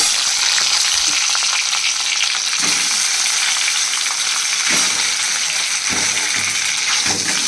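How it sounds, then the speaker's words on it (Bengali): Pitha cakes frying in plenty of ghee give a loud, steady, close sizzle with bubbling crackle throughout and a few soft stirring knocks, no voices. "ওকে পিঠেটা ভেজে দিয়ে দিই"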